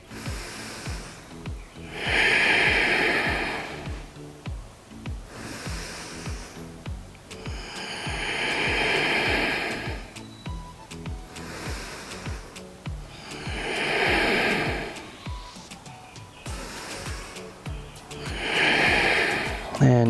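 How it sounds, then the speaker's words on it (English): Deep, slow breaths during a seated yoga spinal twist, drawn in and let out in long swelling waves about every five seconds, close and fairly loud over faint background noise. "And deep breaths here."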